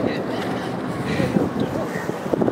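Wind rushes steadily across a Nepali hilltop, a broad continuous buffeting against the microphone with a voice faintly mixed into the noise.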